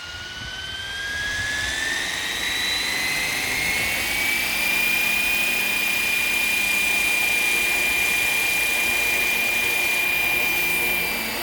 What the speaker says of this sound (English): And there we go for a gentle takeoff.